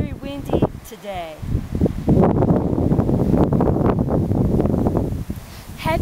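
Gusty wind near snow-capped Mount Fuji in Japan rumbles loudly and continuously against the microphone, nearly drowning out voices speaking over it.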